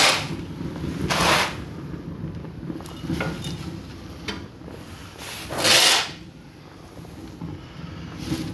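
Solid fuel tossed into a homemade multifuel stove, giving two louder rough scraping, clattering bursts with softer rustling knocks between them, close by and with no talking.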